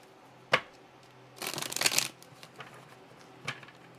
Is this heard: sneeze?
no